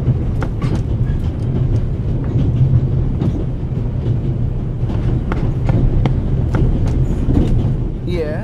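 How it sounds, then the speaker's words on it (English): A steady, loud rumble of the Orient Express train in the game The Raven, with continuous rolling noise and repeated rail clicks throughout. "The noise on this train is driving me crazy."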